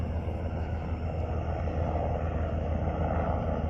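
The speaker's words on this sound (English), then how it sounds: "there's currently a helicopter flying over the lake" A steady, loud engine roar with deep low rumble holds constant throughout as a helicopter flies over a lake, with no voices.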